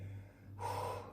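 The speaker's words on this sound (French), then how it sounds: "on respire." A single soft breath drawn in, quiet and close, rising briefly after a low steady hum.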